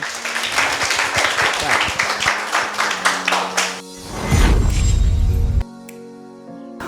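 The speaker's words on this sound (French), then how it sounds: "Et si c'est à applaudir quand même." Audience claps for about four seconds in a report from a film school, a lively burst of hand clapping that stops abruptly, followed by a low rumble and a short stretch of quieter noise.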